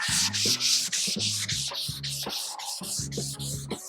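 Rapid rhythmic scratchy strokes of sandpaper rubbed back and forth by hand on the inside edge of a cabinet door, close and steady, with no talking.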